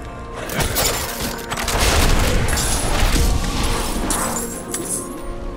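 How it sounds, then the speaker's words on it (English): Enemies bursting apart under a rogue's rapid-fire attacks in Diablo IV, a loud, continuous flurry of booming impacts and crunchy crashes layered over game music. "you'll just see them start kind of exploding really quickly"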